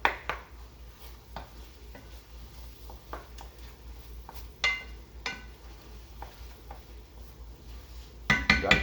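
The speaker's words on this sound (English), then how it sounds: "Got to keep stirring our pasta" Pasta being stirred in a pot, quiet scraping and intermittent clinks of a utensil against the pot at irregular intervals, with a louder clatter near the end.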